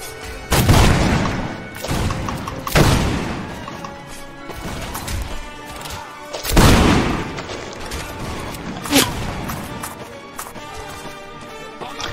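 Musket volleys in a Holland versus Spanish Empire video game battle, several loud booming cracks spaced a few seconds apart over constant crowd din, clattering and distant shouting.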